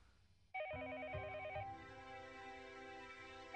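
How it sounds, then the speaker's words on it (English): An old-style telephone rings in the Higurashi When They Cry visual novel, a bright trilling electronic bell that starts abruptly and rings steadily, alone with no speech. "The phone rang noisily downstairs."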